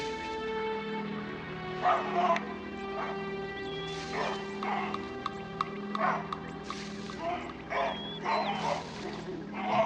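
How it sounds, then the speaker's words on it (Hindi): A troop of baboons in the African wild, near a waterhole where buffalo and lions gather, raise a racket of sharp barks and yelps in repeated bursts over a steady droning background, moderately close and without speech. "बबूनों ने शोर मचाना शुरू कर दिया है।"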